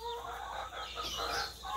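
Rooster from a breeding yard making soft clucking calls, steady and fairly close, with no voices over it.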